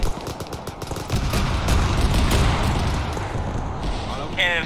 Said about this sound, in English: Auto cannon of some kind